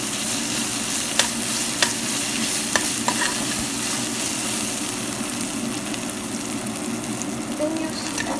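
Ginger garlic paste frying with golden-brown onions in a pan, giving a dense, steady sizzle with occasional sharp clicks of the stirring spoon.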